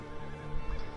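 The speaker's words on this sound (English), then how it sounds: "I don't know whose horse this is, but I'm taking it." A horse in Red Dead Online gives a short, quivering whinny, close and fairly loud, with a couple of soft hoof-like thuds underneath and no speech.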